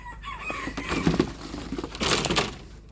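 Cochin hens and roosters in a barn clucking and calling close by, a short run of throaty, uneven cackles with some scuffling underneath.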